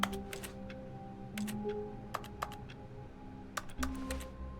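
Sparse keyboard clicks tap out in irregular bursts over a low hum of background tones, with a few sharper keystrokes standing out, as typing plays in The Stanley Parable: Ultra Deluxe.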